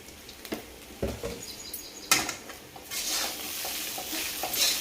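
A pan of fasting khichdi being stirred and sautéed, with the spoon scraping in repeated strokes over a steady sizzle that grows louder and continuous in the second half, close and unaccompanied by talk.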